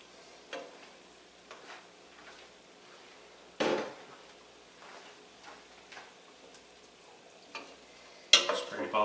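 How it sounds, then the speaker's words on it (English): A pan deglazed with dry white wine, with garlic, onion and crushed red pepper scraped off the bottom: scattered quiet scrapes and spoon taps, a louder burst of sizzle and scraping near the middle and another at the end. "we're going to deglaze with it"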